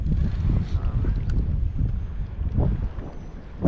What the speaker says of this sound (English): we're starting to get the wind. It's kicking up a little bit.